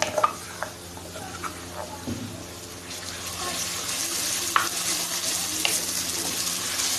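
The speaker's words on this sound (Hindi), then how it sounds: "पेस्ट शामिल करने के बाद इसको थोड़ा सा भून लेंगे" A ginger, garlic and coriander paste fries with onions in a pan, a steady soft sizzle with occasional stirring clinks and scrapes, continuous and close.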